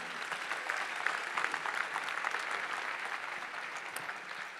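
Audience applause at a sports awards ceremony honouring local athletes, a dense, steady clapping that holds evenly for several seconds without talk.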